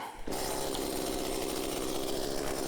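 A chainsaw revs to full RPM with its clutch drum spinning. A hard start gives way to a steady, loud, high buzzing whine that holds evenly and stays close.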